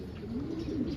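A small pet bird named Juana gives a soft, low, warbling coo-like call that swells and holds steadily, close by, with no voices.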